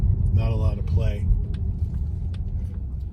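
A 2022 Polestar 2 electric car rolls along a wet road on a rainy day, a steady low cabin rumble with road noise continuing beneath a brief stretch of talking early on.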